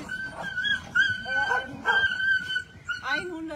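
Several excited dogs in a shelter yard whimper, yip and bark in repeated bursts close by, while a person talks over them.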